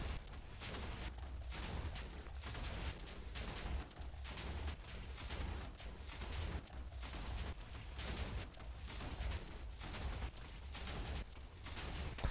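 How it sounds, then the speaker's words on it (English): Rapid TNT cannon explosions in Minecraft, a dense string of booming blasts fired in quick, roughly regular bursts, loud and continuous with no voices. "I don't know what's up with the weird explosion pattern in the blocks."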